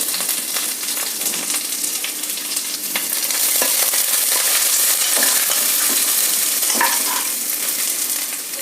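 Curry leaves, dried chillies and onion sizzling and frying in a pan, a steady close crackling hiss with occasional stirring clinks and scrapes.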